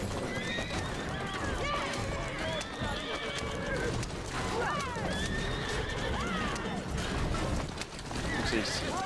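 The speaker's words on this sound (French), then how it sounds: "Ta gueule, cheval." A horse neighs repeatedly with shrill whinnies over steady clip-clopping hooves in the video game Assassin's Creed Syndicate, loud and close amid game noise, with someone talking at times.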